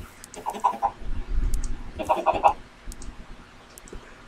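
Chickens in the video game Minecraft cluck in two short bursts of soft, clipped notes at moderate distance. Low rumbling ambience sits underneath, and no one speaks.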